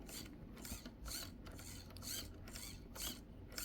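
A Mias servo in a custom Traxxas TRX4M crawler build moving back and forth, giving faint, rhythmic mechanical whirring and ticking gear sweeps repeated about every half second, close and quiet.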